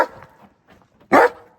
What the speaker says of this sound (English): Hey, enough barking.